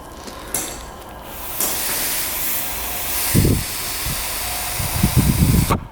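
Breath blown through the vent line of a Honda dirt bike gas cap gives a continuous airy hiss lasting several seconds, close to the microphone, with a few low puffs and bumps near the end and no talking.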